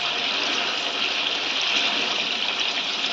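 Chicken deep frying in a generous amount of oil, giving a steady, loud, close hiss and crackle that holds evenly throughout with no voices.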